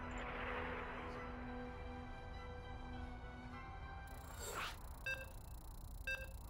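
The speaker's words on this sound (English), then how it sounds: "You can hear the beeps. We are loading on in." StarCraft loading beeps sound as two short, clear electronic tones near the end, heard over a steady background hum, with no talking.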